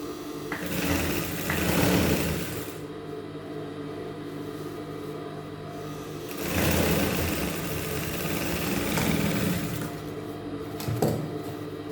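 A sewing machine stitching a seam to join fabric pieces runs steadily with a fast mechanical whir, swelling louder in two longer stretches and easing between them, close and alone.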